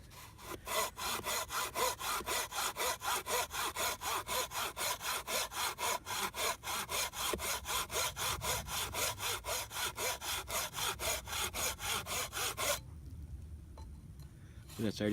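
A Kobalt folding saw cuts green wood in quick, even back-and-forth strokes, a rasping rhythm that runs close and steady before stopping near the end, with a faint voice in the background.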